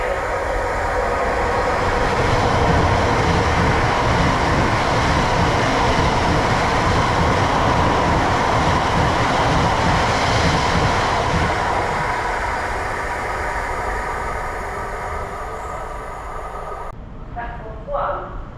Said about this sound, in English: train now approaching platform 4 does not stop here